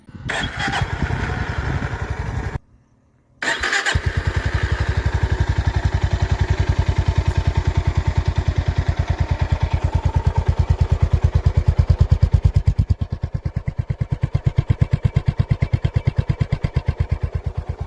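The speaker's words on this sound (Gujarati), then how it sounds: "સેલ્ફ લગાવીએ તો એનો એક્ઝોસ્ટ સાઉન્ડ આપણે સાંભળીએ" A new motorcycle's engine cranks on the electric self-start and catches, cuts out briefly, then restarts and settles into a steady, close thumping idle with rhythmic exhaust pulses.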